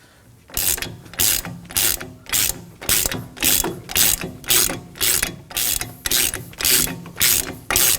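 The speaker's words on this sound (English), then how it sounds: "Using a 27mm socket, I'm gonna be tightening this bolt, and that's gonna be pressing the hub onto the bearing." A ratchet fitted with a 27mm socket tightens the front hub bolt on a 2014-2020 Acura MDX by hand, about a dozen loud, evenly spaced clicking bursts of the pawl, close up with no talk.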